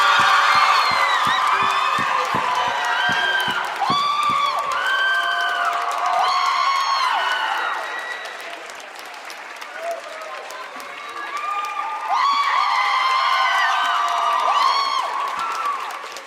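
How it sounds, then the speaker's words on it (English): Fans greet Selena Gomez in Los Angeles with loud applause and cheering, high shrieks and whoops riding over continuous clapping that dips briefly midway, then swells again. "It's a different kind of applause, I think."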